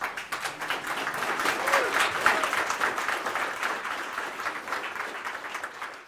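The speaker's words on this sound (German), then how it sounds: "Applaus für Leonie und Elia und DBEP." Sustained applause from an audience at a youth hackathon presentation, a dense wash of many hands clapping steadily throughout, fairly loud and close.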